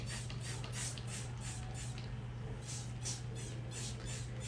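Dye is sprayed onto a hoodie in a rapid series of short, soft hissing bursts, about a dozen in quick rhythm over a steady low hum, fairly faint and close.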